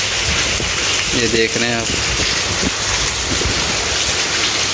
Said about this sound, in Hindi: अभी जी बारिश अच्छी खासी हो रही है